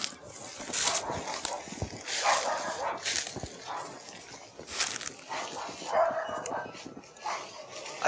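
Dogs bark repeatedly outside an old house, in scattered bursts of yaps and woofs that sound moderately distant, with some whimpering between them.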